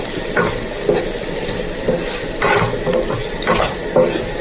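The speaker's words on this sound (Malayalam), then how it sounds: "എന്നിട്ട് വീണ്ടും നല്ല പോലെ ഇളക്കി കൊടുക്കുക." Onions with turmeric powder stirred in a pan for a Kerala-style egg kuruma: a steady frying sizzle broken by a series of spoon scrapes and clinks against the pan, up close and with no talk.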